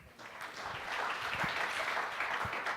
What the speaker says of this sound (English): Big round of applause for Stan.